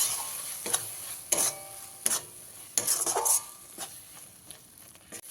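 Thick ground spice paste stirred and fried in oil in a pan for a Bengali potol chingri dish, heard as irregular close scraping strokes with soft sizzle and a few spoon clinks against the pan, no voices.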